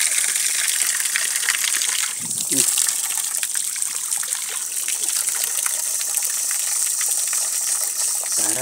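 Water gushing steadily from a village tap, a continuous broadband rush close by, with a brief low thump partway through and a voice faintly in the background.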